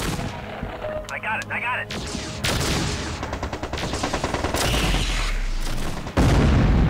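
Mech weapons fire in MechCommander 2 destroying an enemy vehicle: rapid repeated gunfire bursts and booms, loud and close, with a brief excited shout early on.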